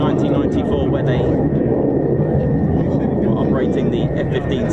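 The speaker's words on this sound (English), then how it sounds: "it appears that we've got an F-16 Fighting Falcon starting up" An F-16 Fighting Falcon jet engine roars in a steady, loud, dense rush at close range, with no break in the sound and voices faintly under it.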